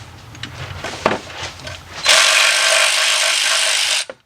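Power tool such as an impact driver or drill spinning out bolts from a Kia/Hyundai engine during timing chain replacement, a loud continuous whir for about two seconds after softer handling and clinks, cut off abruptly.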